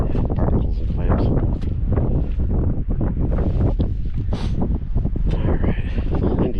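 Gusty wind at a rocky beach with kelp, barnacles and clams, buffeting the microphone in loud rumbling bursts throughout, with surf-like wash underneath and no clear speech.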